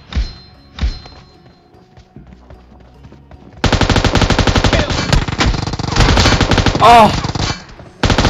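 Rapid bursts of automatic gunfire from PUBG Mobile, loud and dense, starting after a few seconds of quieter game sounds and continuing almost without pause, with a brief exclamation from a player.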